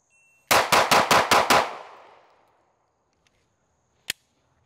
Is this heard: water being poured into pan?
no